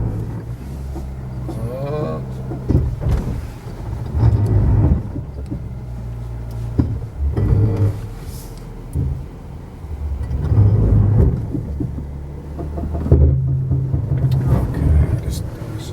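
A Jeep engine driving off-road on light throttle, a low, loud rumbling drone that rises and falls in uneven surges, close and continuous throughout.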